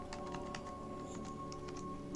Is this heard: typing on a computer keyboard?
yes